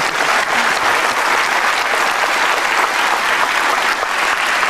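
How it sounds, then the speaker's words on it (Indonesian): Dense studio audience applause fills the room on a live Indonesian television talk show, a steady loud wash of many hands clapping at once with no voices on top. "Luar biasa, perlu tepuk tangan."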